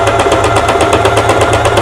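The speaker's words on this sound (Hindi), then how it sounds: "आप देख सकते हैं इसको हम डबल सिलाई चला देंगे" A sewing machine runs a double line of stitching along a blouse shoulder seam, giving a loud, steady, rhythmic mechanical whirr with fast even pulses and no talking.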